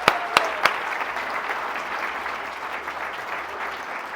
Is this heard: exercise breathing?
no